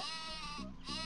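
The sheep weapon in Worms Armageddon gives one sustained, wavering bleat, loud and close, with a slight dip in the middle before it rises again.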